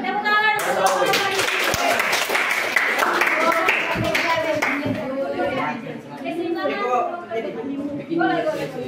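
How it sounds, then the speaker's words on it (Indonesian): Classroom applause during a teaching practice lesson, children clapping in quick irregular bursts close by, with voices chattering and calling out over and between the claps. "Tepuk tangan untuk"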